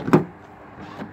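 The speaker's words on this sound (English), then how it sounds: "Automatic door." A minivan's automatic sliding door opens with a sharp mechanical clunk at the start, then a quieter motorized whir and a second soft thud near the end.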